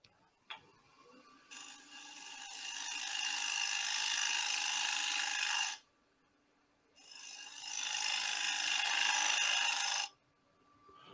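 A shear scraper works a wooden fillet and cove, making two long, close rasping scrapes separated by a short pause and led in by a brief tap.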